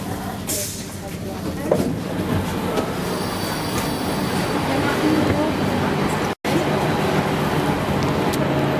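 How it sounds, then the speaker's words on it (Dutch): Veolia train unit 352 rolls along the rails, heard as a steady rumble of wheels on track with squealing and clatter throughout. A brief dropout interrupts it near the end. "Dit was de reis met treinstel 352"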